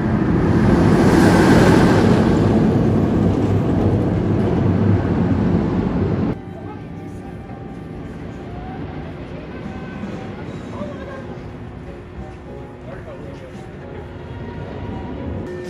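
Roaring wind rush of the Alpengeist coaster at Busch Gardens Williamsburg on a cold sunset ride from the second-to-back row, loud and steady for about six seconds, then cutting off to quieter ambient noise with faint voices.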